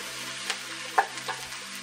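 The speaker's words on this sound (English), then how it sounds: "we're really just going to drop in the mushrooms and garlic. We're going to mix this up real quick." Mushrooms and garlic frying with browned onions in a pan for vegan collard greens with wild rice, stirred in a few short scrapes over a steady soft sizzle, close and fairly quiet.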